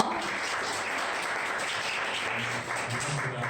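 An audience applauds a presenter being introduced at a self-promotion contest event, steady broadband clapping through the whole stretch with faint background murmur.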